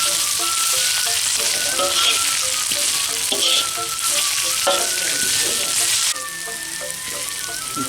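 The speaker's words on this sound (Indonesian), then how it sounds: "sekarang kita akan menggoreng bumbu rajangnya" Chopped spices sizzle and crackle steadily in a hot pan, with occasional scraping stirs; the frying stays loud and close, easing slightly near the end.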